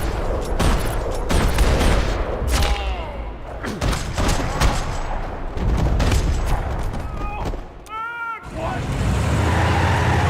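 Gunfire in a parking lot in the Max Payne 3 video game: bursts of loud shots and impacts crackle over a dense game soundscape, pausing briefly before resuming, with voices mixed in.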